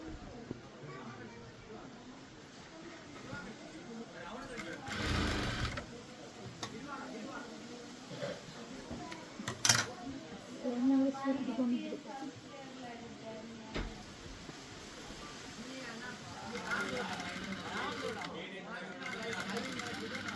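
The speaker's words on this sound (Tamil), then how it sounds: "பாருங்க கொஞ்சம் தூரம் தச்சு போட்டு காட்டுறேன்." A sewing machine stitches fabric for a tailoring order with a steady mechanical whirr and rhythmic needle chatter, starting and stopping over a low background hum while a voice talks over it.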